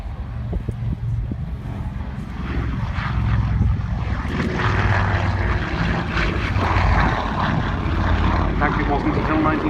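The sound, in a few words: Avro 19 propeller aircraft flying at air show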